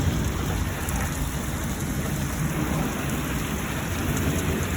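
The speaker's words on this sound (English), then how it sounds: "Listen to all that thunder, though." A thunderstorm moving through North Dakota, steady heavy rain pouring on surfaces with thunder rumbling low underneath, continuous and fairly close throughout, no voices.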